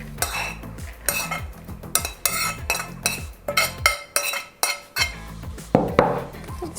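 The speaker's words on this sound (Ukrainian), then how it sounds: "все перемішуємо" Minced meat mixed with cabbage being stirred for meatballs, a spoon scraping and clinking against the bowl in a steady rhythm of repeated strokes, close and clear with no talking.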